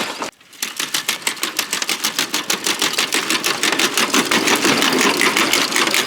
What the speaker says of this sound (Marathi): हे मशीन आता तुम्हाला चालून दाखवतो